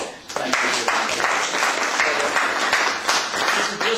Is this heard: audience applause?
yes